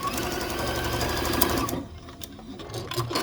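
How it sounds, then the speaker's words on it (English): A sewing machine runs steadily as quilt block pieces are stitched together, then stops abruptly partway through, leaving a quiet room with a few small handling clicks. "I'm going to go ahead and sew these little guys together."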